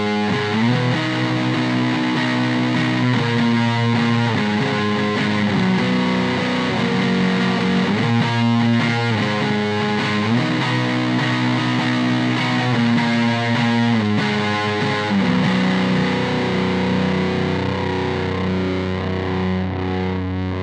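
Electric guitar on the neck pickup through the Koch Pedaltone channel boost, sustaining thick, warm distorted chords that ring and shift steadily for about twenty seconds at a full, constant volume, without any voice.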